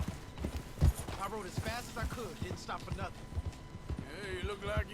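Hooves clip-clop in a steady galloping rhythm in the open-world game Red Dead Redemption 2, kept up under a man's lively, near-continuous talk.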